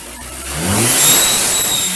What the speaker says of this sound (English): let's give it some revs and see if we can engage the turbo.